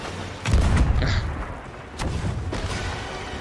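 A gunpowder keg blows up against a skeleton galleon in a pirate video game, giving a heavy booming blast with a rumbling tail, then a second thud a moment later.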